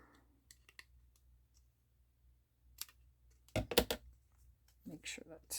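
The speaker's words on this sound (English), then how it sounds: "Just gonna trim this side a little bit." Paper trimmed along one edge while a file folder folio is being made: sparse, faint clicks and snips, then a louder close cluster of cutting sounds and a few more near the end.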